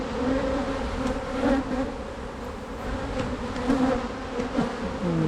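Honey bees swarm around an open hive from an abandoned colony, producing a loud, continuous droning buzz with wavering pitch as individual bees pass close by, steady throughout with no voices.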